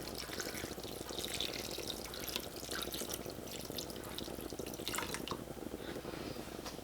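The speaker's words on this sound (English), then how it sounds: "we're going to add 2 cups of water" Two cups of water are poured into a pan on the stove for a ground beef burrito bowl, producing a steady, fairly faint splashing stream that runs continuously without talk.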